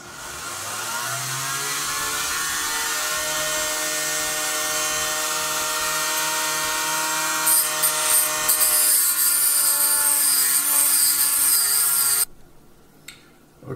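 A Dremel rotary tool polishing deep scratches from a watch crystal, probably with about 200 grit, whines at a steady high pitch for roughly twelve seconds, close and loud, then cuts off abruptly. No one speaks.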